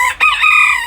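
A rooster crows loudly and close by inside a winter chicken coop with a compost system, one strained, sustained call.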